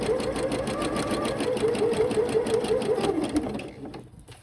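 Sewing machine stitching elastic lace onto lingerie fabric with a zigzag stitch, a loud rapid rhythmic whirring that runs steadily, then slows and stops near the end.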